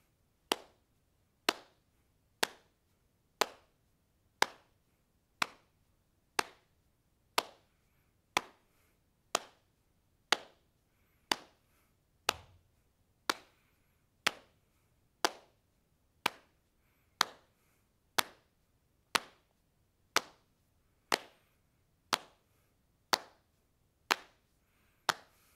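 Hands patting a steady body-percussion beat in a home music lesson, crisp close slaps repeating evenly about once a second for the whole stretch, with no talking.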